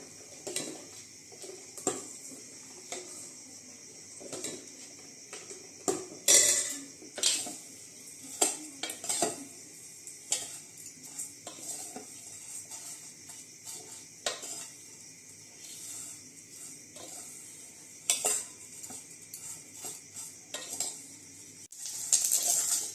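Vermicelli roasted in a pan while being stirred, with repeated metal clinks and scrapes of a spoon against the pan over a faint sizzle, quiet and close, no speech.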